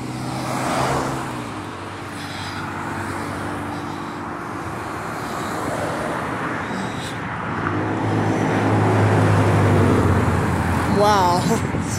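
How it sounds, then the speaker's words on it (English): Cars pass along a street during an evening walk after work, a steady roadway hum that swells as vehicles approach and rolls on continuously, with some engine drone rising near the end. "now it's increased traffic."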